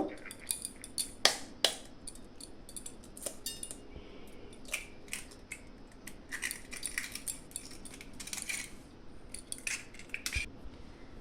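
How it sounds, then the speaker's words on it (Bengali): Two eggs being cracked for a cake, heard as sharp close taps and clinks of shell against a bowl, scattered irregularly in a quiet room. "আমি এই দুটো ডিমকে এখন ফাটিয়ে নেব।"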